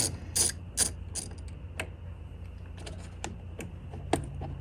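A ratchet wrench turns a 10 mm bolt on the battery of a 2020 Chevrolet Tahoe, giving close, crisp bursts of rapid clicking with short pauses between strokes.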